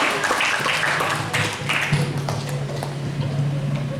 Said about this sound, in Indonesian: Tepuk tangan dulu untuk Luciana ya.